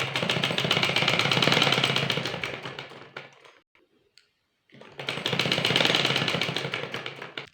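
A sewing machine runs in two sustained bursts stitching a folded petticoat hem, a close, fast, even mechanical chatter that stops for about a second and a half before starting again.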